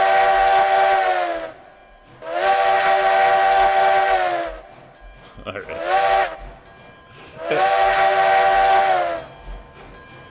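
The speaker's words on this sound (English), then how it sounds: "It is the best whistle in the game." The Tweetsie steam locomotive in the railroad video game RailRoads Online sounds its whistle in three long, loud, harmonically rich blasts separated by short gaps and a brief chuff of hiss, with someone briefly speaking.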